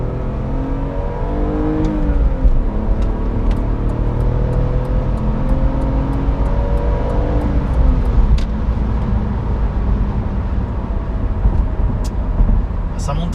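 BMW 320i E46 from 2001 with the 170 hp M54 straight-six, revving steadily higher under acceleration on the road, a continuous loud engine note with rising harmonics beneath someone talking throughout.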